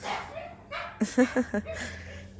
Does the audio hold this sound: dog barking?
yes